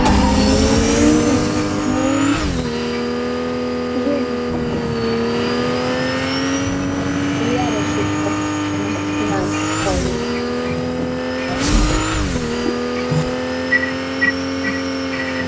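A car in the Fortnite video game revs and drives steadily, its engine pitch rising and falling through repeated accelerations with occasional tire squeals, loud and continuous, with a player speaking over it.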